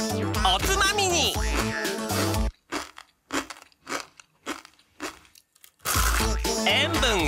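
Dry Nissin Chicken Ramen noodles are bitten raw, giving a series of sharp, close crunches in the middle, set between passages of music and voices.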